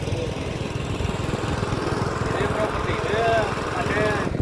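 Motor boat engine on a channel of Vembanad lake, a steady close buzzing drone with rapid pulsing throughout, people talking over it.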